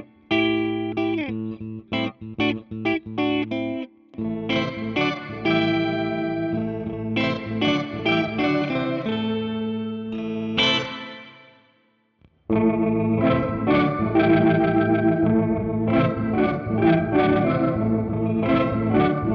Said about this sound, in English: getting a really cool organ octave effect just by using some octave with reverb and just the lower bass rotor